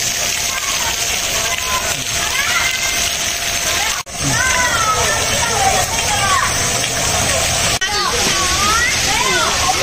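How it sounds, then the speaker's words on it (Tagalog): A water fountain at a hotel resort pours in a steady, loud rush that runs through the whole stretch, with a person talking over it. "Meron po siyang fountain. Ayan, fountain."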